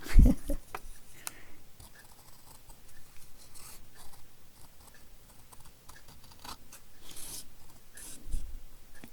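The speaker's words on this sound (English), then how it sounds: "They even gave me a dotted line to cut on." Scissors snip paper along a dotted line during a craft project, producing quiet, close scraping and cutting sounds that continue steadily with occasional louder crinkles.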